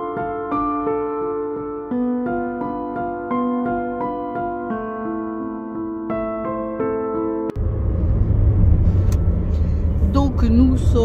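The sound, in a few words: car driving on a road trip in England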